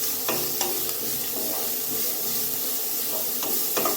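Beetroot stirred in a hot pan while it wilts for beetroot upma, with a loud continuous sizzle and repeated scraping strokes of the spoon at an uneven rhythm, up close.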